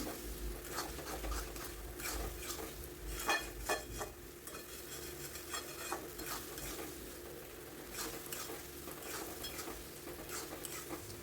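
Spice paste with peas, potatoes and paneer sizzles softly in a pan while a utensil stirs and scrapes at intervals, fairly quiet and close.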